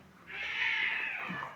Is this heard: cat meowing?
yes